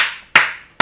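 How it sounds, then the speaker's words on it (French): One person clapping, three sharp close claps spaced roughly a third of a second apart, each ringing briefly before fading. "J'applaudis"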